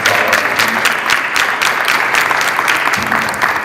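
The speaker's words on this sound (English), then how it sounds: "So give them a round of applause." Audience at a city council candidates forum in East St. Louis, Illinois, gives a loud, continuous round of applause, many hands clapping close and steady throughout with no speech.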